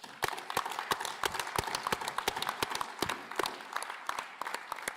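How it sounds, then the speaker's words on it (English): At a trade agreement signing ceremony, a small audience gives a round of applause: crisp, distinct claps in an irregular patter, moderately close and continuing steadily throughout. "Let's give them a big round of applause."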